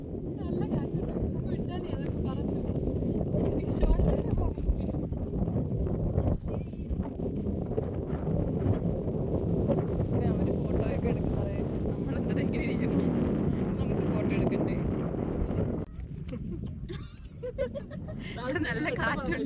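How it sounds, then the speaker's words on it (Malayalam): Strong wind roars across a hilltop at Ponmudi, a loud, continuous buffeting rush against the microphone that eases briefly near the end, with voices faintly underneath. "നല്ല കാറ്റുണ്ട്"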